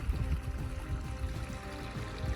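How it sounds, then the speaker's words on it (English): A small burn trickles through a green pasture in a glen, giving a soft, continuous burble of running water at low level with no other sounds. "It's nice and green because it's got a wee burn trickling through."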